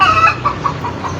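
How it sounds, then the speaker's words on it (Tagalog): Rhode Island chickens cluck nearby in a short burst of several soft, clipped calls over quiet background. "ito yung mga manok na Rhode Island"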